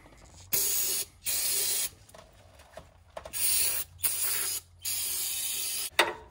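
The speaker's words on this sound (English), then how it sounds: "So we'll just take some brake clean, clean the inside, clean the outside." Aerosol brake cleaner sprayed in several sustained hissing bursts onto the rear brake pads and rotors of a 2016 RAM 1500 pickup, close and loud, with brief gaps and faint clicks of parts between sprays.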